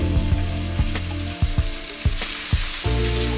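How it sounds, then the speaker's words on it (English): Minced garlic and ginger sizzle steadily while being stir-fried in a hot pan, with a few sharp utensil scrapes and clacks breaking through the continuous close frying hiss. "You want to stir fry this for at least 2 to 3 minutes till it gets a little bit of a char"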